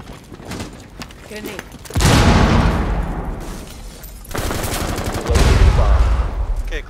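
Frag grenades blasting in a house map during a Rainbow Six Siege team deathmatch match: a sudden loud explosion and debris roar, then a second heavy burst a few seconds later, with faint game noise before.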